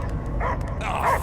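A dog barks and yips in the Guardians of the Galaxy video game, a few short, close barks over a steady humming game background with no talk.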